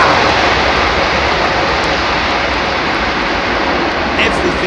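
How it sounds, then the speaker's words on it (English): Airliner landing on a wet runway at London Heathrow with full reverse thrust applied, a loud, continuous, close engine roar with rushing broadband noise that stays steady throughout. "That was full reverse thrust apply, wasn't it?"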